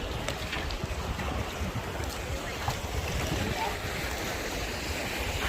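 Continuous rushing of sea water and wind at a floating cottage in Palawan surrounds the listener, a steady broad wash with faint splashes, fairly loud.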